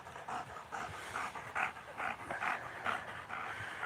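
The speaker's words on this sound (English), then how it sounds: "This dog's a maniac." A dog pants in quick, rhythmic bursts of breathy huffs, close and steady throughout with no talking.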